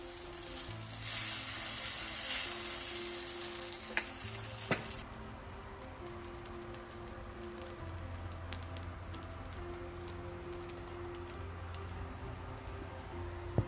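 Two dosas sizzle side by side on a large tawa, a steady soft frying hiss with light crackle that is louder at first, then settles quieter, with occasional small ticks and no talking.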